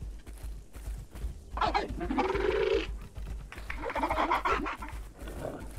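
Hen clucking in Path of Titans, two loud nearby bursts of rough, squawking clucks with short pauses, over a low background hum; no talk.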